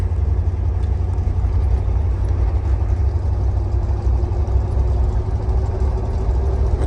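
A 1956 Mercury Montclair driving on the road, its engine a steady low rumble with constant road and cabin noise heard from inside, even and unbroken, with no talk.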